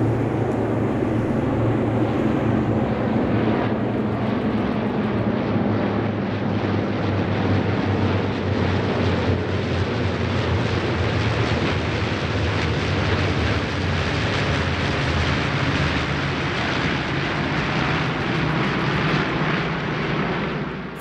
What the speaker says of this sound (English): as many as 8 of the 13 Mitchells joined up for a formation flypast